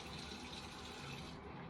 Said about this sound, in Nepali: एटेच बाथरुममा तातो पानी, चिसो पानी सबै आइन्छ।